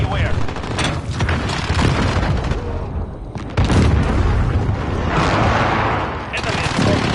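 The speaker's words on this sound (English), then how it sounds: "Allied precision airstrike." Precision airstrike explosions in the video game Call of Duty, loud rumbling blasts and gunfire rolling continuously with a brief lull, then another heavy wave of booms.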